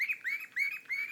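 AJ, a pet bird, sings in bright repeated chirps and warbling whistles close up, a steady run of tweets with no voices over it.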